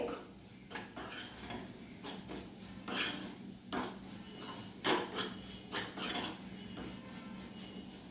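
A spoon scrapes and knocks against a pan while turmeric and salt are mixed in during cooking of a bitter gourd dish, giving a series of irregular metallic taps and scrapes close by, with no talking.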